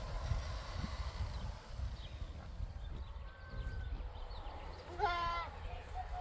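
A goat gives a single short, wavering bleat near the end, heard faintly over gusting wind noise on a windy farm.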